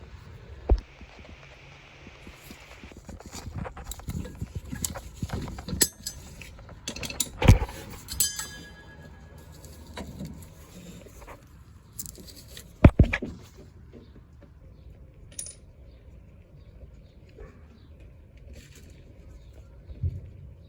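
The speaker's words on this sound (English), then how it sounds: "once I clip this, it will uncompress and slide up into place, and then I can do the top bushing, washer, and nut" Metal parts clink and clatter as a rear shock bushing, washer and nut go on a 2020 Toyota Tacoma, scattered close taps and a few sharp metallic knocks over quiet background.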